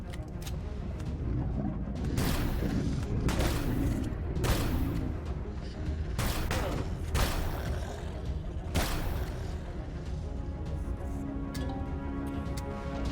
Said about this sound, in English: Wow, sniper rounds.